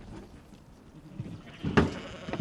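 Sheep on Shortlands Station at Dansey's Pass, New Zealand, give one short bleat partway through, with a couple of fainter calls after it over quiet outdoor background.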